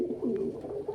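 A pet pigeon coos close by in a low, throaty, rolling burst that sustains for about a second in a quiet room.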